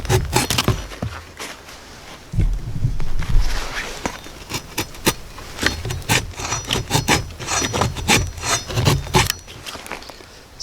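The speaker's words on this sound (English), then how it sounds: "So it's real easy to create curls or carve, whatever I want to do, get shavings for a fire" A bushcraft survival machete carving shavings and curls from somewhat dry wood, a close run of repeated scraping and rasping strokes with brief knocks between them, no voices.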